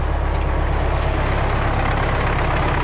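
A MTZ-80 tractor diesel engine runs steadily in a garden plot on cold, damp ground, a loud, continuous low rumble close by with no talk over it.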